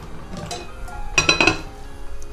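Metal pots and pans clink and clatter in a kitchen while chicken malai boti is cooked in a frying pan, a quick burst of several bright knocks close by.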